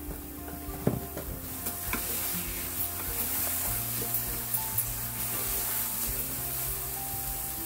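Dates rava laddu mixture of semolina, dates and peanuts is stirred steadily in a pan on the stove, giving a continuous soft scraping and faint sizzle with occasional clinks of the spoon, close and unvoiced.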